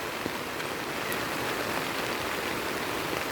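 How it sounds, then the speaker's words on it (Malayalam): Heavy rain pours steadily as a constant close wash of hiss beside a water-covered road, with no voices and no pauses. "രക്ഷയില്ല, ഭയങ്കര മഴയാണ്."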